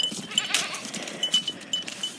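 Several goats bleat in short, scattered calls as they are herded into a portable electric-fenced browsing pen, near and fairly loud, with brief gaps between cries and no talk.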